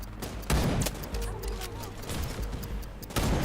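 Gunfire in the video game Wild Assault, sharp loud bursts at the start and near the end with an active firefight between them and some speech in the mix.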